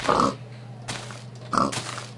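Pig grunting in the Minecraft video game: two short, close grunts about 1.5 seconds apart, standing alone over a steady low background hum.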